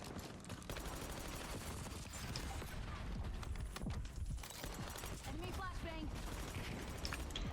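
Rapid bursts of LADRA gunfire from a video game fire at a high rate, dense and continuous under mechanical clatter and game effects, with a voice talking over much of it.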